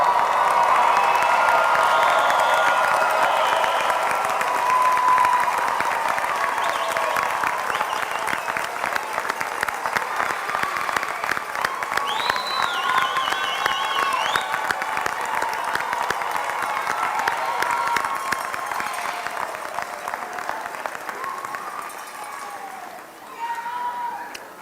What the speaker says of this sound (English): We already clapped